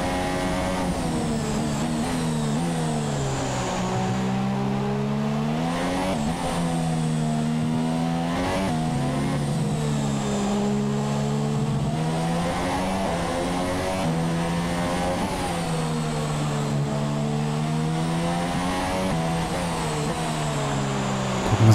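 Formula One car engine in the F1 2017 video game at the Abu Dhabi Grand Prix, a loud continuous whine whose pitch rises and falls repeatedly through gear changes and corners, with no talk over it.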